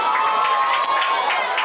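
A high school varsity football crowd, Westby vs Viroqua, gives off a steady roar of cheering and chatter at full volume with no breaks.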